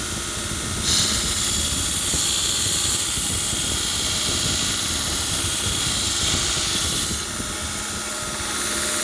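A 2x72 Revolution belt grinder grinds through 1/4 inch mild steel with a loud, steady, harsh roar of belt and motor that stays unbroken and close throughout, with no talking.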